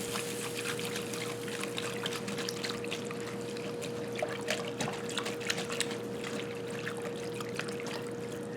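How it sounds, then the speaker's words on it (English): Flour stirred into four cups of beef broth for a German rouladen gravy, a steady soft liquid swishing and trickling throughout, close and moderately quiet, with a faint constant hum underneath and no talking. "I'll put my flour in it and stir my flour up."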